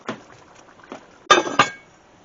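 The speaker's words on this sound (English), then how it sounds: "we are going to put the lid on" A metal lid settles onto a goulash pot with a couple of sharp clinks and a rattling clatter, preceded by a few lighter taps, close and fairly loud.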